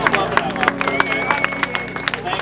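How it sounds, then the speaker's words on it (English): Festival crowd at the Tucson Kaiju Festival applauding a Space Godzilla costume, scattered hand claps and cheers rising under a babble of nearby voices and a whistle-like tone. "Can we get a round of applause for Space Godzilla,"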